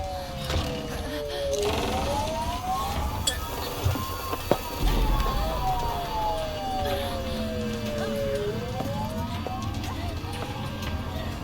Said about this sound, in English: Oh look, there's the siren.